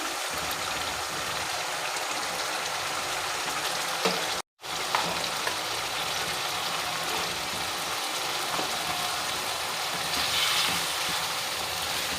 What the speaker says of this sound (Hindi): सब्ज़ी को हमने अच्छे से हिला लिया